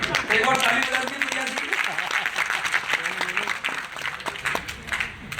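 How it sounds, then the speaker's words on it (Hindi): An audience at a Hindi shayari poetry event claps together, a dense burst of applause that starts loud and gradually thins out, with a voice talking over it. "एक और ताली बजा दीजिए"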